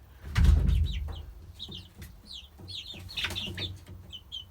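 Chickens settling into a frugal DIY metal-floored coop, giving soft repeated clucks and chirpy calls scattered throughout, with one louder low thump near the start; close by and moderately quiet.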